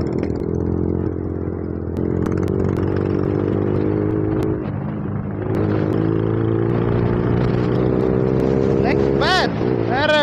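A Royal Enfield Bullet motorcycle runs in fourth gear with a steady, thumping engine drone close by. A voice is heard under it, and brief high chirps break in near the end.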